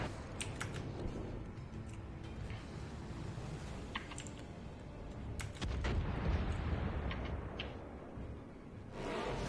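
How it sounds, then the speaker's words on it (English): Battleship main guns firing a salvo at the Missouri in World of Warships, heard as sharp booming reports and crackling impacts over a steady sea-and-engine rumble, loud and repeated through the stretch. "Chucking another salvo at the Missouri"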